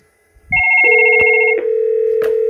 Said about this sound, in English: I'm going to have an inbound call come into this phone.